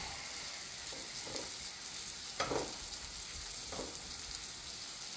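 Baby arugula wilts in a hot pan with a soft, steady frying hiss, punctuated by a few brief stirring clatters, quiet and close with no voices.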